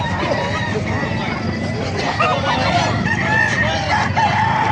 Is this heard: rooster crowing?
yes